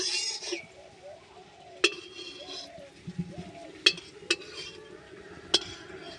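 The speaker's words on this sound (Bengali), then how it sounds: "দিয়ে কড়াই নাড়তে থাকবো।" A spatula stirs in an oiled kadai (wok) with soft scraping and several sharp metallic clanks against the pan at irregular intervals. Faint voices sound in the background.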